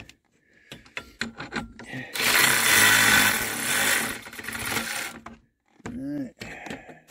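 Ratchet driving bolts into a Dodge Nitro heater box during installation, a loud burst of rapid ratcheting clicks and grinding for about three seconds, with someone talking before and after.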